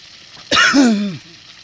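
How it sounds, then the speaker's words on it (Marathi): A cameraman gives a single close, loud cough with throat clearing. It is a short harsh burst that fades into a rough voiced tail. "कॅमेरामॅनला खोकायला येतंय."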